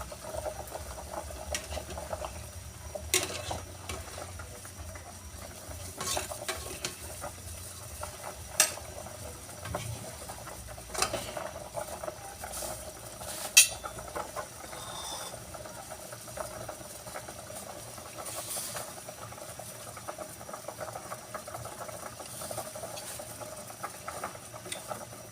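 Sinigang na bangus soup with kangkong at a rolling boil in a pot, a steady low bubbling churn under faint kitchen clatter, with occasional sharp clinks of a utensil against the pot.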